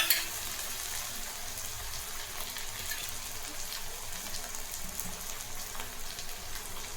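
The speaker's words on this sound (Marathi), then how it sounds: "छान फ्राय झाला आहे टोमॅटो" Tomato frying in a pan for masoor dal amti, a soft, steady sizzle and crackle held at low level close by, with a small clink at the start and no voices.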